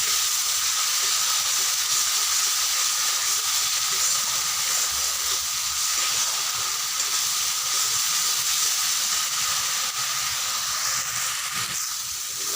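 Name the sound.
spice masala frying for jackfruit (echor) curry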